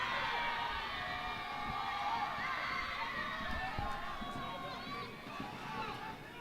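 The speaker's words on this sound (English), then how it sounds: "You can see the little cheerleaders down there beating the drums, cheering for their home team" Young cheerleaders beat drums and cheer at a Bhutan Premier League football match between Paro FC and Thimphu City FC, a steady distant crowd roar with faint drum thuds throughout.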